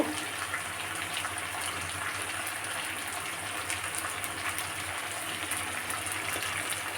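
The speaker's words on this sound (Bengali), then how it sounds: "এবার আমি জল দিয়ে দেব তো অল্প পরিমাণে জল দেব" Water poured into a pot of cooking chicken curry, a steady continuous gushing splash that holds at an even level throughout, with no talking.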